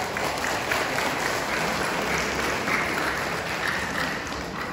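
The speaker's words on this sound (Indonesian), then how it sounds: "Tepuk tangan untuk wisudawan." A graduation audience breaks into dense, sustained applause for the graduates, a steady wash of many hands clapping at even loudness throughout.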